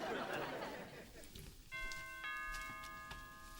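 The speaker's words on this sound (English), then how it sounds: "Come on, ring the bell." Doorbell chime heard indoors, its tonal ring sustained and decaying after a brief muffled clatter, moderately close and fairly soft, with a little background murmur before it.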